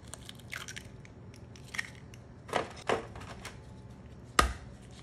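Eggs cracked for a baked French toast casserole: several sharp, crisp cracks spaced apart, close and fairly quiet, ending with one louder snap, with no talking.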